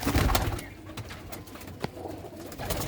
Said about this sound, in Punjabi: ਇਹ ਆ ਕਬੂਤਰੀਆਂ